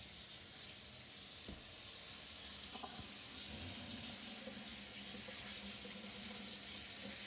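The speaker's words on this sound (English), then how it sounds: "I'm going to rinse them off thoroughly in some cold water" Steady cold water pours from a tap over broccoli stems being rinsed, a continuous hissy splash with a faint clink partway through.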